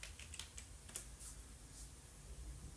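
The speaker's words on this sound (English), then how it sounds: "By typing the command, since I'm in the right directory, I'm just going to type" A command is typed on a computer keyboard to set up software on a Raspberry Pi 4, heard as a quick run of soft, close key clicks followed by a few spaced taps, faint against a quiet room.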